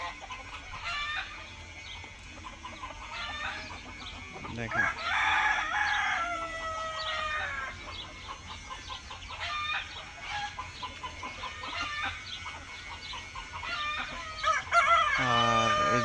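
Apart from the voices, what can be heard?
deshi sonali chickens clucking and crowing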